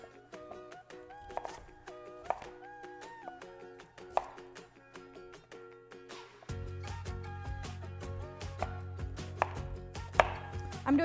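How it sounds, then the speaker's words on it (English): Knife chopping sweet potatoes into roughly one- to two-inch cubes on a cutting board, sharp irregular chops throughout with music playing underneath that grows louder midway. "Okay, now we're gonna break them down and cube them."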